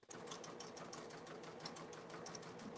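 A sewing machine stitches steadily and continuously at close range, a dense mechanical whir with fine rapid clatter, starting abruptly and running alone without pause or voices for about three seconds.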